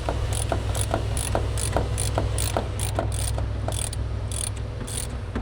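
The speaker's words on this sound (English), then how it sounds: "our tool for tightening the nut up" Ratchet tool tightening the nut on a shock absorber piston during a Golf R suspension upgrade, a rapid steady series of close mechanical clicks in even rhythm.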